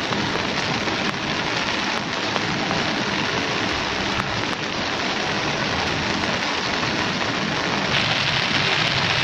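Rain falls steadily outdoors among flowering plants, a dense, even hiss that stays loud and constant throughout, with scattered drop taps.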